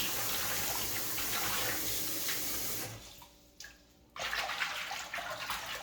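Bean sprouts being washed in a bowl of water, giving a steady rushing, sloshing water sound up close that drops off briefly partway through and then resumes.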